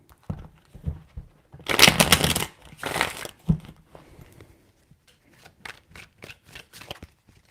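Tarot cards being shuffled by hand, two loud riffling bursts near the start followed by scattered lighter card taps and slides, close up with no talk.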